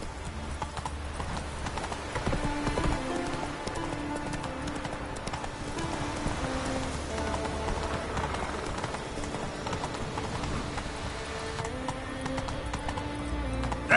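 Roach, the horse in The Witcher 3, gallops steadily, with rhythmic hoof clip-clops running throughout over a dense game soundscape with music.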